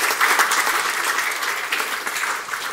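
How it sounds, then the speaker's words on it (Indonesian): Audience applause at an evening ceremony honoring Olympic medalists in Indonesia, a steady, dense burst of clapping throughout with no voices over it. "Boleh tepuk tangan, jangan ragu-ragu."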